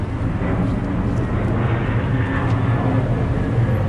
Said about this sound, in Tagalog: Ang ingay ng airplane kasi malapit sa ano, malapit sa airport.